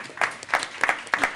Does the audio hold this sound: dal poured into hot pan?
no